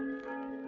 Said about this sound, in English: Nothing but those accursed bells.